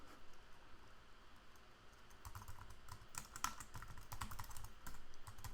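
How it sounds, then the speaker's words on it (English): Fingers tap steadily on a computer keyboard with quick, light clicks that bunch into faster flurries. The typing is fairly close and quiet, with no voices. "I'll just type it."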